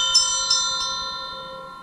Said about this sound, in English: Some kind of bell.